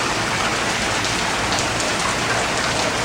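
Steady rain falling during outdoor play with an umbrella, a dense, even hiss of drops close around the listener that holds constant throughout, with no voices.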